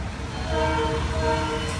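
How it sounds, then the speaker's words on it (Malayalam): Horn of the Deccan Nampally Express sounding after the emergency chain is pulled, train halted on a bridge; a loud, sustained blast over a low rumbling background, heard without talk. "ചെയിൻ വലിച്ചതല്ലേ ട്രെയിനിന്റെ ആ ഒരു ഹോൺ"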